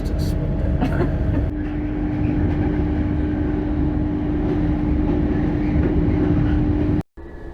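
LNER train running on the line, heard from inside the rear cab: a steady low rumbling drone with a constant hum, close and continuous, cutting off abruptly near the end.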